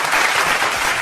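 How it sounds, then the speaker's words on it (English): Audience hand clapping at a live talk show event, a brief, loud, dense burst of applause at close range with no voices over it. "Let me get a hand clap for that real quick."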